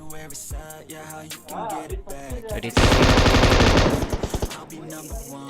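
A loud sustained burst of M249 machine gun fire in a video game, rapid rhythmic shots lasting about a second, set between stretches of speech.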